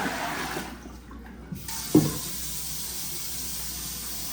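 Water runs from a tap and splashes into a container to rinse mini cucumbers for pickling, a steady close hiss broken by a brief pause and a sharp splash.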